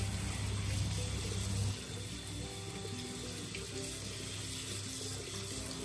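Tap water runs onto the base of a money plant as it is washed, a steady splash that is louder at first, then settles into a continuous softer flow with no speech.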